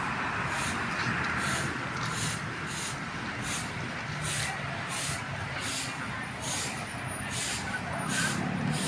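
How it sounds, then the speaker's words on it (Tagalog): A garbage truck hauling trash along a highway, a steady broad roar of the truck and passing traffic with faint rhythmic hissing pulses, continuous throughout. "Ayan po yung kanilang truck no? Ayan, diba? Inahakot yung ating mga basura dito sa may highway."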